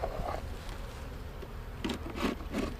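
Honeybees buzz steadily around an open hive during an inspection, a low continuous drone with a few brief louder swells near the end, no voices.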